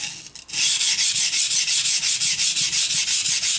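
A kitchen knife is ground on a simple sharpening stone to regrind or thin the blade, making a loud, steady rasping scrape in quick, regular back-and-forth strokes after a brief quieter start.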